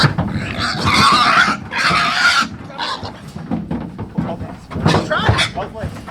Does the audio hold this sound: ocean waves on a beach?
no